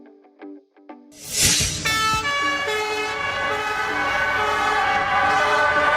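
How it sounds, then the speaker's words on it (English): An ambulance siren starts suddenly after a few short tones and then wails loud and steady nearby, holding its rising-and-falling pitch throughout. "Ambulance."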